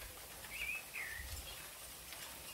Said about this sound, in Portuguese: Ouça o som desse sabiá que está cantando por aqui.